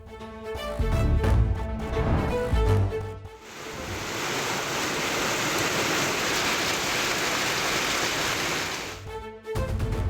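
Heavy continuous rain in Jhajjar, Haryana, a dense steady hiss of downpour lasting several seconds, framed by news music before and after.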